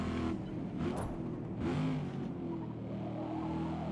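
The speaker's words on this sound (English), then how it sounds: "the engine sounds great" Race car engine in Gran Turismo 7 revving hard, two loud surging bursts in the first two seconds before settling into a steadier drone, with no talk over it.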